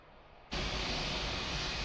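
Norwegian airliner taxiing in Microsoft Flight Simulator 2020, heard as a sudden onset of loud, steady broadband engine roar that holds constant after a quiet start.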